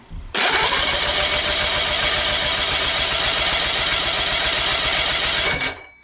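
A 1964 Evinrude outboard motor with bad compression is cranked over for a compression test, a loud, even whirring churn that starts abruptly, runs steadily for about five seconds and then stops.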